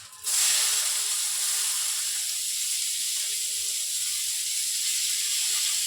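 Onions sizzling loudly as they hit hot oil in a pan where cardamom has just been cracked, a sudden burst of bright hissing that settles into a steady, close sizzle.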